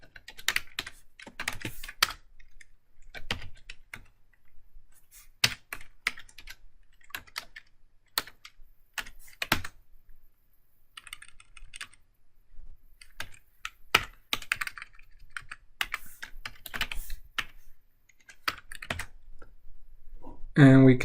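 Someone types code on a computer keyboard in quick bursts of close, crisp key clicks separated by short pauses, with a brief sound at the very end.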